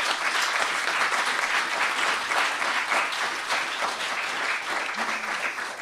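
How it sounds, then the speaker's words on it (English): Audience applause at a music event, steady and dense clapping from a crowd that fills the room at an even level throughout, with no pauses. "I want to give you another round of applause."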